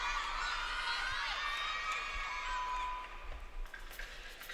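Crowd at a gymnastics championship arena cheering and whooping, a broad bright roar that stays loud, then thins and wavers toward the end.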